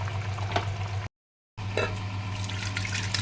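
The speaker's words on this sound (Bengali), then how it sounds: "এবার ব্যাস আমি ঢেলে দিলাম।" Capsicum, paneer and potato curry poured out of a pan, a close watery splashing and trickling with a low steady hum beneath, interrupted by a brief silence.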